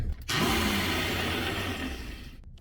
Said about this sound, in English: I'm just putting it in my bullet blender right here that you can see and just pulsing it